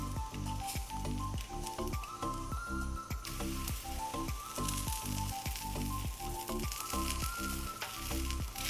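Lachha paratha roasts on a griddle with oil, a steady close sizzle with regular soft scraping strokes throughout.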